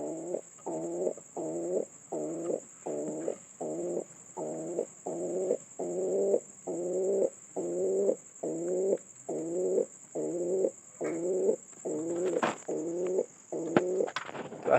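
Newly acquired pigeons coo in a steady run of about twenty evenly spaced, close low calls, with a constant high electrical whine in the background and a few clicks near the end.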